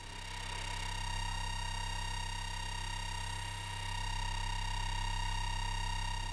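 Steady electronic test tone from a FuG 220 Lichtenstein SN-2 wartime German night-fighter radar set, a constant buzzing hum with strong harmonics, continuous and even throughout with no voices.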